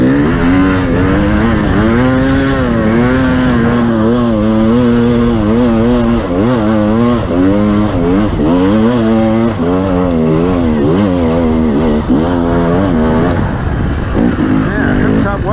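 A 2021 KTM 300 TPI two-stroke dirt bike engine revving hard as it rides through slippery mud, close and loud, its pitch rising and falling continuously throughout.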